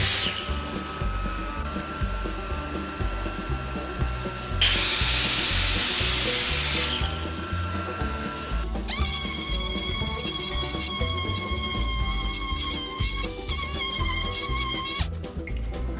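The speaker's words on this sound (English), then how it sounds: "I can cut this panel to size on my miter saw." A miter saw cuts a wood panel to size for a jewelry box, a loud whining motor spin-up followed by a harsh blade rip through the wood, then ringing tonal whine as the blade runs on and winds down.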